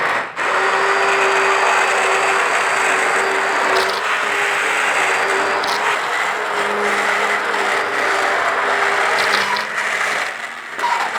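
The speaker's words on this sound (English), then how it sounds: "what I'm going to do is run a stick blender in here and just blend a little bit" A stick blender whirs through butter chicken sauce made with chicken stock and passata, a loud, steady motor drone with a few brief bumps and pauses in its tone.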